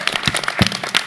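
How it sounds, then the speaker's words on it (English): A brief burst of audience applause at a live celebrity Secret Hitler game event, scattered individual claps close together over about a second. "Final round of applause for Maya for running the board."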